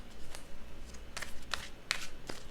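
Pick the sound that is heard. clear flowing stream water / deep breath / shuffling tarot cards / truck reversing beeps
shuffling tarot cards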